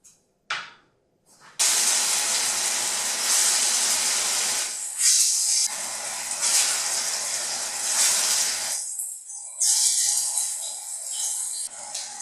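Kale kofta balls deep-frying in oil give a loud, dense hiss that cuts in abruptly after a brief quiet start and dips and returns a few times.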